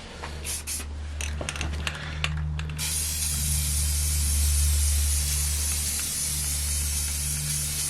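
A spray can sprays paint onto Maxpeedingrods T6 car coilovers, first in several short hissing bursts, then in one long continuous close hiss that holds to the end.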